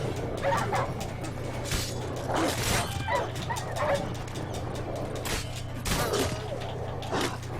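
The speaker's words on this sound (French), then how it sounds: "Ouais, je vais buter du chien." Dogs barking repeatedly in The Witcher 3: Wild Hunt, a series of sharp yips and barks over a steady low game hum, with creaks mixed in.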